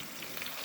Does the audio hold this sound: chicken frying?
yes